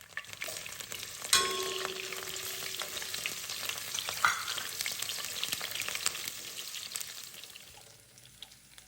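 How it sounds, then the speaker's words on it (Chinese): Diced shiitake mushrooms and ginger frying in oil in a wok, a steady bright sizzle with a sharper crackling burst as food hits the pan, then continuous frying with occasional utensil clicks, close and alone. "鍋裡的油保留，再將香菇角加入，爆一爆油。"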